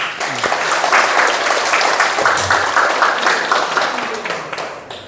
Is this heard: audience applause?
yes